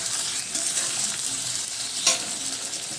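Chopped onions and slit green chilies fry in a pan with a loud, steady sizzle, broken by soft stirring scrapes and one sharper clatter partway through.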